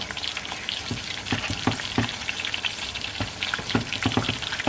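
Crab frying in a pan with curry powder, a steady crackling sizzle with stirring scrapes and soft clinks throughout, close and moderately loud with no talking.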